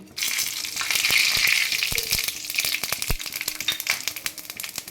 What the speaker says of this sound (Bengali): জিরে শুকনো লঙ্কা গোটা গরম মশলা তেজপাতা আমি ফোড়ন দিচ্ছি